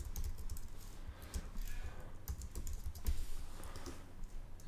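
Keys are typed on a computer keyboard during interface design work, with soft clicks scattered under a steady low hum and background noise.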